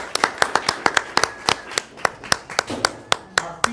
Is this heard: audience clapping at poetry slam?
yes